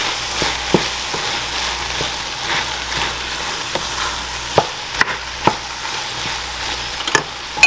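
Fried ground beef and cooked tomato stirred together in a pan, a steady soft sizzle with scattered sharp scrapes and clacks of a utensil against the pan, close and alone.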